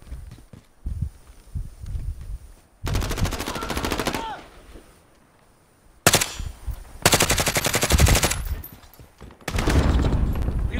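Machine gun fire in the video game Modern Warfare, loud dense bursts of rapid automatic shots in several long strings, with quieter footsteps and scattered sounds between them, no talking.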